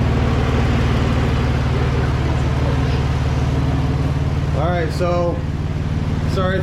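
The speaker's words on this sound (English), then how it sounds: "Now we'll start it and let it idle until we hear the fans turn on." A 2011 Ford Edge engine idles with a loud, steady low rumble and whirring radiator cooling fans, and a voice speaks briefly toward the end.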